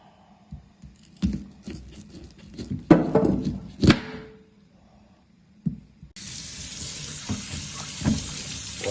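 Goat meat handled and washed under a tap, with knocks and splashing at first, then a steady rush of running water filling the second half.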